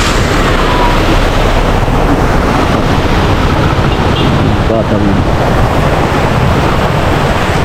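Loud, constant roar of rushing typhoon floodwater deep enough to sweep away cars, filling the whole stretch, with a brief spoken word partway through.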